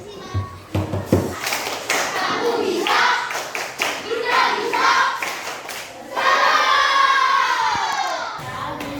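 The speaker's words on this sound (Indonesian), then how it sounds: "kita bersama-sama menyegarkan tubuh kita ini dengan tepuk semangat" Schoolchildren standing in a classroom perform a rhythmic spirit clap, bursts of patterned clapping mixed with loud chanting and shouting voices, with a teacher's voice between the rounds.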